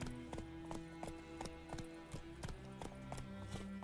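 A horse trots along a road in The Witcher III: Wild Hunt, its hooves clip-clopping in a steady, even rhythm, faint and close, with a low tonal hum beneath.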